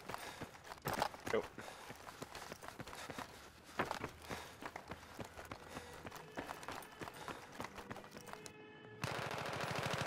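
Rapid bursts of automatic gunfire and scattered single shots crackle through a 2v2 tournament video game match, mixed with quick running footsteps and faint voices in the background.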